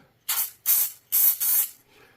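Four short bursts of DuPont silicone lubricant sprayed into a handgun during a home-defence modification, each hissing spurt lasting under half a second with brief gaps, close and fairly loud.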